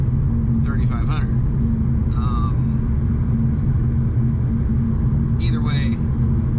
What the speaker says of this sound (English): push the clutch in, and with the right foot just nail the brake